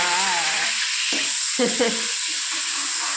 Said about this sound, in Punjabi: ਚਲੋ ਇੱਚ ਅਸੀਂ ਲਾ ਦੇਣਾ ਤੁੜਕਾ ਲੋ ਜੀ ਪਿਆਜ਼ ਪਾਣ ਲੱਗੇ ਹਾਂ